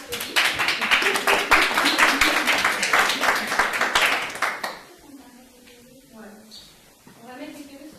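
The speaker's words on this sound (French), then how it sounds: "On les applaudit." Lively audience applause for performers at the Actoral theatre festival, a loud burst of many clapping hands lasting several seconds before cutting off abruptly, followed by a speaking voice.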